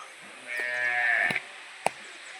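A young female buffalo calf moos once in a drawn-out, nasal call lasting about a second, fairly close, followed by a faint thud and a short knock.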